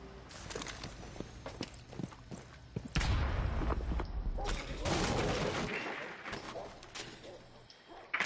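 Scattered gunshots in a competitive esports match, with a player firing to shoot out a jukebox in a strip club area, sharp reports spaced irregularly among footsteps and game ambience.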